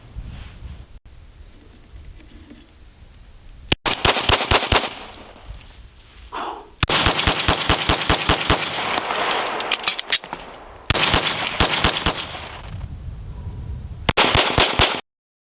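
Agency Arms Field Edition Glock 17 9mm pistol fired in several close, loud strings of rapid shots, each burst lasting a few seconds with short pauses between volleys.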